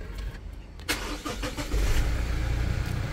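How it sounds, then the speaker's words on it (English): A 2018 Toyota LandCruiser Prado is push-button started, with a brief crank followed by the engine catching and settling into a steady, loud idle close by. "foot on the brake, we push this one here to start it up for you."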